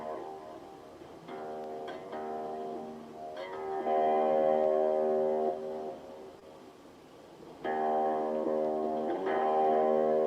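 Sustained synth-like tones wash out into a long, echoing reverb tail, swelling and fading in two loud bursts.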